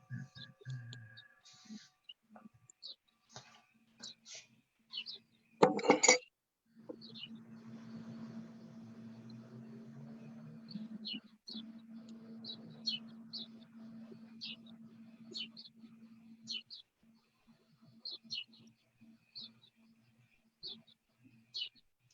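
Small birds chirping outdoors, short bright tweets repeating at irregular intervals across the stretch, fairly faint, with a low hum and a loud knock partway through and occasional talk nearby.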